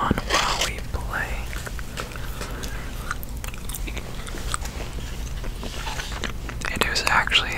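Close, wet chewing of peppermint gum in a quiet room, soft repeated smacks and crackles continuing throughout, with faint whispering at the start and end while a Skyrim game plays quietly.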